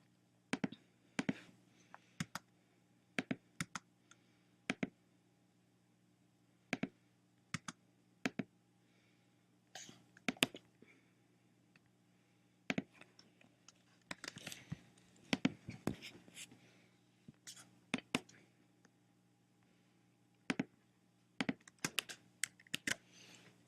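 Someone typing code on a computer keyboard, quiet close key taps in scattered bursts and flurries with pauses between, and no talking.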